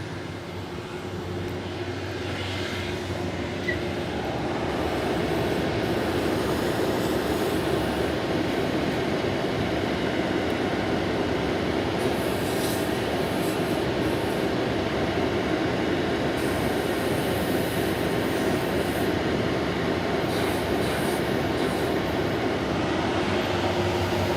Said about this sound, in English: let's take you over to the grinder